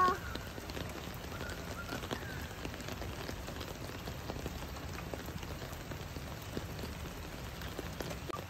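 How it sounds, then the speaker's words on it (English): Raindrops fall steadily onto water on a rainy day, a constant soft pattering and fizzing that holds an even level for the whole stretch with no other clear sounds. "the third is watching the raindrops on the water."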